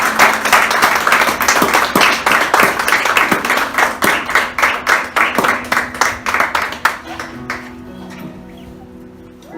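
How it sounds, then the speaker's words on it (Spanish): A church congregation applauds at a worship service: a dense, loud burst of many hands that settles into rhythmic, pulsing claps before thinning and fading out near the end. "Denle un fuerte aplauso al Señor."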